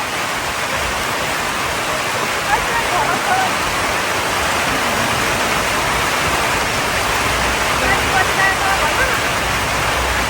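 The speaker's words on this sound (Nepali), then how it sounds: "पानी परिरहेको छ" Steady rain falls over paddy fields during rice planting, a dense, even hiss that fills the scene without pause, fairly loud and close with no clear voices over it.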